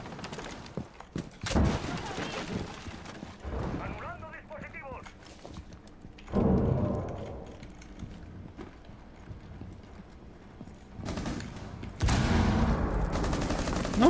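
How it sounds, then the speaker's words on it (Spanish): Bursts of gunfire in the tactical shooter game Rainbow Six Siege, a few loud broadband volleys spread across the clip with quieter stretches between, mixed with game noise and occasional voices. "¿Por qué disparas?"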